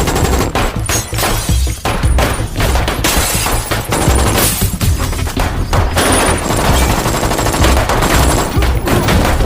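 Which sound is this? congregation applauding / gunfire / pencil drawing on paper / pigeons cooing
gunfire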